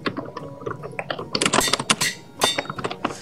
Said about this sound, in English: Who's typing random crap?